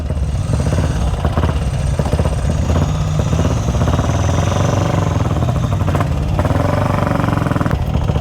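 A Velocette Venom motorcycle engine with a GP carburettor revs steadily and loudly at close range, a continuous throbbing roar that rises and falls slightly without pause.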